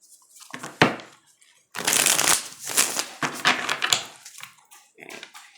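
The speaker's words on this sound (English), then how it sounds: "Let's see what the Celtic Cross has to tell you." A deck of tarot cards being shuffled up close, with bursts of riffling and flicking at an uneven pace, some louder and denser than others, and brief pauses between them.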